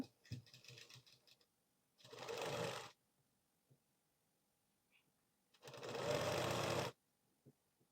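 A domestic sewing machine stitching a blouse runs in two steady bursts of about a second each, separated by quieter handling clicks and fabric rustle, close and fairly loud.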